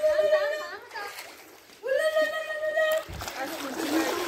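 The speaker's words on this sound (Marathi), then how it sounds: "हे बघ दादा साहेब बघ उडी मारली बघ दादा साहेब पाण्यात" Someone jumps into water at a farmhouse, landing with a loud splash at the end, after excited children's voices call out nearby.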